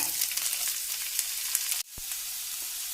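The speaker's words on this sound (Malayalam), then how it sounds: "നമുക്ക് 1 ടീസ്പൂൺ വെളിച്ചെണ്ണ ഒഴിക്കാം. കുറച്ച് കടുക് ചേർത്ത് കൊടുക്കാം." Mustard seeds, green chillies, garlic, shallots and curry leaves sizzle in coconut oil for a jackfruit seed thoran, a steady hiss with light popping that cuts briefly and resumes after a stir.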